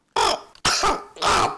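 A voice imitating a crow, giving a few hoarse, raspy caws and coughs in quick succession, loud and close, with short pauses between the bursts.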